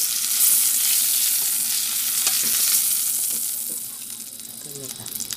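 Steady sizzling of pork frying in a hot pan, with occasional stirring scrapes, loud and close, easing slightly toward the end.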